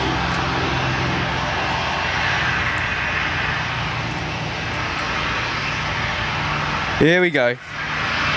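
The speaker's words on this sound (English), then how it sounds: "our 321 should be arriving any second now" An Airbus A321neo jet arrives at Gold Coast Airport, a steady loud engine roar and rush filling the scene, with a brief tonal surge near the end; a person speaks briefly.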